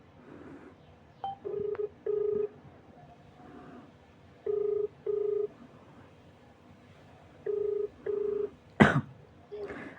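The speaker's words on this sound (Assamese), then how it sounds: "দিয়া ৰিদীপক ফোন কৰোঁ হ'ব" An outgoing phone call ringing back on speaker, two pairs of clear repeating ring tones spaced evenly apart, with a person coughing and clearing their throat nearby and a loud thump near the end.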